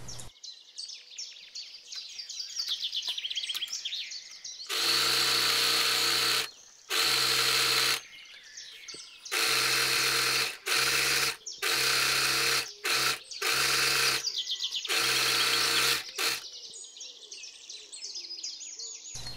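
A sewing machine stitching a ruffle onto a dress runs in repeated loud whirring bursts of one to two seconds, separated by short pauses, with faint birdsong in the background between runs.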